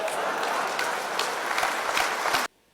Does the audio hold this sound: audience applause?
yes